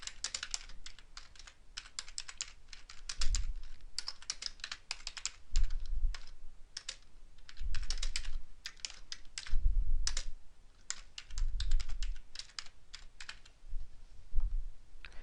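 Steady computer keyboard typing while a course name is entered into a template, crisp close keystrokes in quick runs separated by short pauses and occasional heavier thumps, with no one talking.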